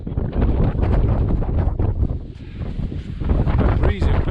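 Strong wind buffets the microphone on an open South Pennines hillside near Stoodley Pike, a loud, continuous gusting roar that rises and dips, with a voice briefly heard under it.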